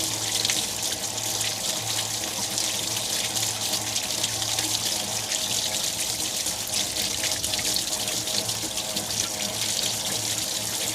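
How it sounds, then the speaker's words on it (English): Water from a hose runs steadily, rinsing out the live well pump of a boat to clear away salt; a continuous broadband hiss and splash holds at even volume throughout, with no voices. "I just rinse this out thoroughly, just to get rid of any salt"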